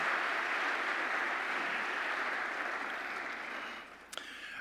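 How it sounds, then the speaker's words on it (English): Convention delegates applaud in a large hall, a broad sustained clapping that gradually fades over a few seconds, followed by a brief sharp knock. "All those in favor, please signify with your applause."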